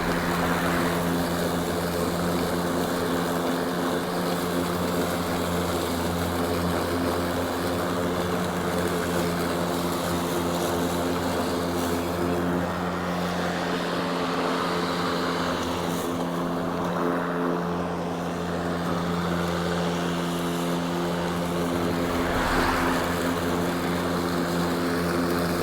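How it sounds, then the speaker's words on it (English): A Ryobi 40V HP battery lawn mower cuts through tall grass with a continuous, even droning hum and layered tonal whine. The sound holds fairly steady for nearly half a minute, with no voices. "there was a time when this lawnmower didn't seem like it was going to cut this tall grass"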